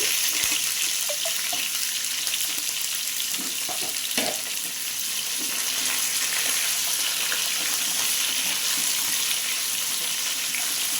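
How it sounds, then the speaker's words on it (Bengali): Papaya pieces are stirred and fried in a pan over medium-high flame, a dense, steady hiss with occasional light scrapes and taps of the spatula throughout. "পেঁপে দেওয়া হয়ে গেল, এবার নেড়ে চেড়ে ভেজে নেব।"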